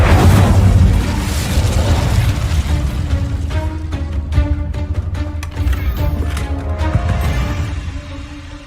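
Fire spell blast in the Hogwarts Legacy video game, a loud booming burst at the start that rolls into a sustained crackling, rumbling roar lasting several seconds with layered game effects.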